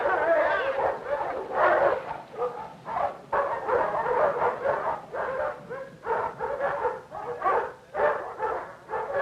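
A dog being trained for protection work barks and whimpers in loud, close bursts, a steady run of yaps and whines lasting the whole stretch.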